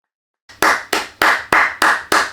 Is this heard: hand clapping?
yes